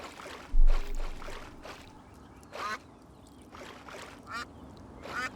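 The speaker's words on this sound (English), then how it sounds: "Those look more like geese than ducks." Ducks or geese in a video game quack in short nasal bursts spaced irregularly over a soft background hiss, fairly faint, with a dull thump near the start.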